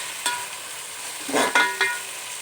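Turmeric and spices frying in a pan for chicken biryani, a steady soft sizzle with a few scraping stirs of a spoon near the end, close and unaccompanied by talk.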